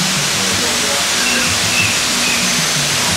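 An artificial waterfall in the Kuala Lumpur airport garden roars in a steady, loud wash of falling water, close by and unbroken, with faint voices underneath.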